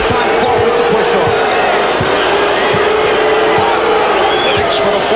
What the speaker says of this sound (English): John Starks hears the boos from the crowd